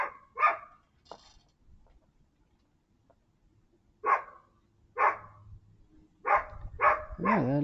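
A neighbor's dog barks in short bursts, one near the start and then a cluster of loud barks toward the end, with a long quiet gap between and no talk.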